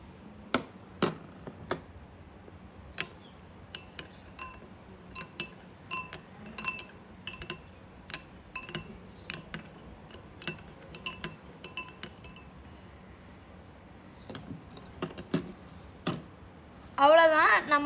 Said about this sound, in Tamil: இப்போ இதையும் வந்து மிக்ஸ் பண்ணிக்கலாம்.